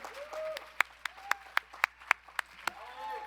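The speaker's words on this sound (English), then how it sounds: "The kind of applause they deserve." Scattered, sparse hand claps from a convention panel audience at WonderCon, about nine sharp distinct claps over murmuring voices and cheers, fairly close.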